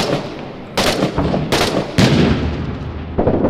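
Grenade explosions in a tense, realistic tactical shooter game: a few loud, sharp blasts with sudden attacks and rumbling tails, spaced irregularly over a constant noisy combat background.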